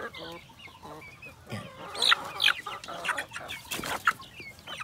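Chickens cluck and peep close by on a farm range, a run of short irregular calls scattered over a few seconds, with faint background noise and no clear speech.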